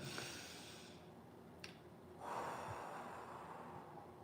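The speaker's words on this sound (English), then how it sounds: "Let's take a couple deep breaths in." A single deep inhale, soft and close, rising into a breathy rush of air in a quiet room.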